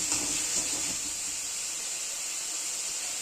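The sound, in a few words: onion and spices frying in oil on a gas stove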